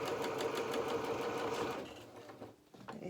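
A sewing machine runs fast, stitching a felt doll's duffle coat, with a steady needle rhythm close up for nearly two seconds before slowing and stopping, leaving quiet handling sounds, no talking.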